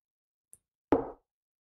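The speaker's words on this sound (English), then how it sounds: "testing or training the knock" A single knock on a hard surface, recorded as a sample for training offline sound recognition on a Raspberry Pi, a short close thud preceded by a faint tick in otherwise silent surroundings.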